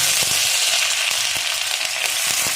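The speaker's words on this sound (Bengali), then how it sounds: "পেঁয়াজটা একটু ভাজা ভাজা করে নেব।" Chopped onion sizzling and frying in hot oil in a pan while an egg curry is being cooked, a steady loud crackle with occasional sharper pops throughout.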